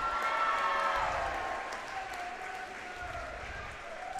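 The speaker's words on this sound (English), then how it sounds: "Crowd's going wild for intros" Crowd at a girls' high school basketball game against Wellsboro cheers and applauds steadily through player introductions, a dense sustained roar of clapping and shouting that eases slightly midway.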